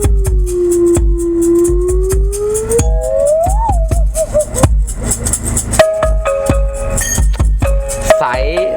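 Music pumps from a 2019 Audi TT's Groundzero sound system with heavy, boosted bass thumping from a spare-tire subwoofer, loud and steady throughout.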